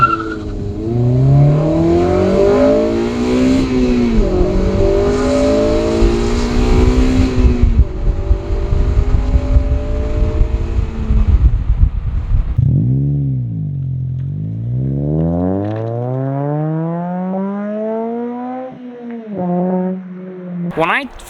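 A 2008 Honda Civic Si with a K20 engine revs hard and climbs through VTEC, rising and falling in pitch, loud and close with a raspy intake howl, then a dip and another long climb.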